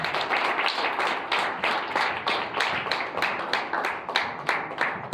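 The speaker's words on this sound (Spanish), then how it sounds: "Dan un aplauso a nuestro Dios." A church congregation claps in praise to God, a loud close run of rhythmic, evenly spaced hand claps that continues without a break and with no talking.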